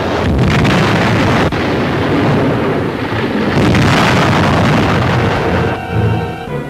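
Deep rumbling blasts and roaring fire aboard the burning aircraft carrier USS Franklin after Japanese bombing, loud and sustained with surging booms, close and continuous, no voices.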